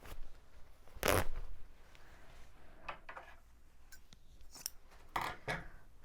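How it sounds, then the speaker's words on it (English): A satin wedding dress seam tears in quick ripping bursts, one loud rip followed by several shorter fabric tears and rustles, close up and without talk. "if you cut it right in the right spot, you can just tear that seam right all the way down"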